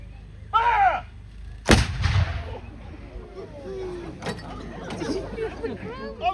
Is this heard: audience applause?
no